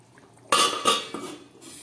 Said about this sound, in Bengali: চলুন এবার গ্যাসটাকে অফ করে আমি ঢাকাটাকে দিয়ে দিচ্ছি।